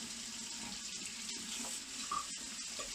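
Hot water runs steadily from a tap while a chocolate fountain is rinsed of melted cheese, a continuous close hiss and splash with a few faint clinks.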